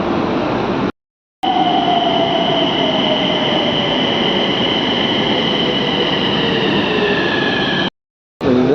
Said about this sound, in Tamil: ஸோ இதுதான் பார்த்தீங்கன்னா நாக்பூரோட மெட்ரோ